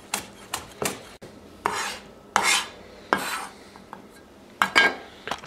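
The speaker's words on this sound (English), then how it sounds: "So these ones I like to chop really fine." A knife finely chopping vegetables on a board for dumpling filling: close, irregular sharp chops in quick clusters, some doubled, with short pauses between bursts and no talk.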